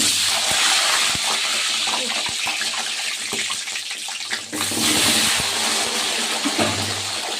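Whole onions sizzle loudly in hot oil with dried chillies and black peppercorns, a dense, continuous frying hiss broken by a few sharp pops and crackles throughout.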